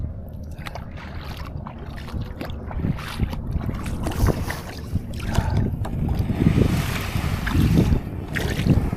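A small boat moves through water against the wind with sloshing and paddle-like splashes, gusts of wind buffeting the microphone throughout.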